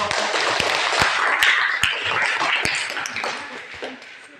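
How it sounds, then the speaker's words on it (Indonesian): A classroom audience applauds a presenter after a group presentation, with steady, fairly close clapping that starts dense and slowly thins out over a few seconds. "kita beri tepuk tangan untuk"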